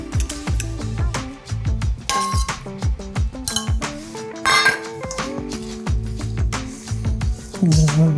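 Grated potato, onion, flour and beaten eggs are stirred together in a bowl for potato pancakes, with repeated close clinks and scrapes of utensil against the bowl in an irregular rhythm.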